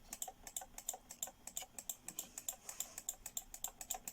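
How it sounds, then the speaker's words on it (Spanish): A computer mouse button is clicked over and over while drawing lines in mapping software, a quick close series of sharp ticks in an uneven rhythm with no talking. "voy a empezar a hacer clic, clic, clic, clic, clic, clic, clic con el botón del mouse"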